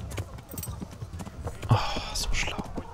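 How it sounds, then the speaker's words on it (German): Horse hooves clip-clopping in the medieval game Kingdom Come: Deliverance, knights' horses moving at a steady walk, moderately close, with quiet breathy sounds and faint voices mixed in. "Das sind die Pferde von den Rittern wahrscheinlich, die wir hier klauen."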